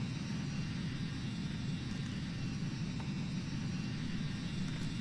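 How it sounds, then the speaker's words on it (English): Steady jet engine drone of an E-190 airliner in Microsoft Flight Simulator, a continuous low rumble with a faint high whine, unchanging and fairly quiet throughout with no talk. "I'm only getting engine noise out of my right headphone."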